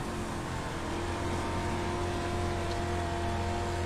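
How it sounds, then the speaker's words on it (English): Dirt race car engine under hard throttle in an online dirt racing series video game, a steady loud drone with a constant low hum and little variation throughout. "He's starting to push hard into the throttle here."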